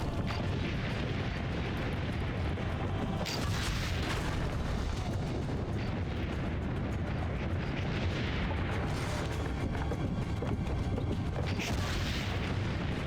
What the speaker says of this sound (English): Get the cannons, get the cannons, get the cannons.